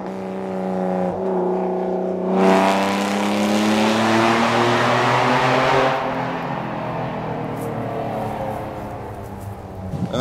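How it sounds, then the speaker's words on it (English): A 1999 Porsche 911 engine and exhaust revs up loudly and close, with a strong rising roar that holds for several seconds before easing back to a lower idle. "it's not the quickest thing out there, but I like the exhaust. It sounds louder than it is"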